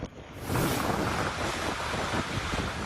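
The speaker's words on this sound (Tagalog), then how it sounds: "sinuong ng mga taga-Coast Guard ang malakas na hangin at ulan" Strong, constant wind gusting into the microphone with a broad rushing roar, likely mixed with heavy rain during a storm in Gonzaga, Philippines; no voices.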